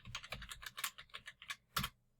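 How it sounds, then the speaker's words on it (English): Typing on a computer keyboard, a quick run of close, crisp key clicks in uneven rhythm, ending with a slightly heavier keystroke, with no talking. "Then we'll type in description."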